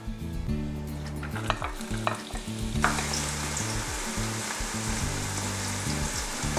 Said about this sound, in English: saute these onions in about a tablespoon of coconut oil or olive oil